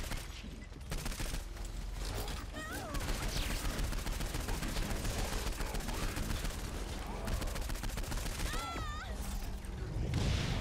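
Pistol fire in Saints Row 4 crackles in dense rapid bursts through a loud, busy game soundscape, near and continuous, with a few whistling effects over the top and some talk.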